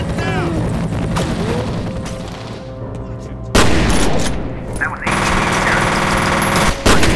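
Loud dense gunfire from the shooter game F.E.A.R., with sustained automatic bursts, heavy booms and crashing impacts, plus a sudden louder barrage partway through and brief game voices mixed in.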